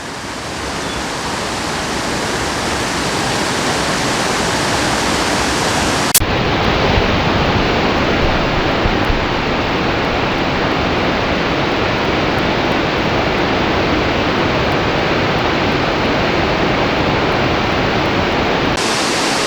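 Constant waterfalls roar through a gorge in an Ithaca state park, a loud, unbroken broadband rush of falling water with no voices, steady throughout.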